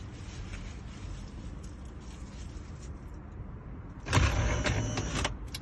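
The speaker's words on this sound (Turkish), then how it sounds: "Bu uzaktan kumandayı çalıştırmak amacıyla araca ekstradan bir güç kablosu uyguladığımızda" A remote-controlled motor driving a hidden compartment in a car whirs on for about a second and a half, loud and close, after a stretch of quiet background hum.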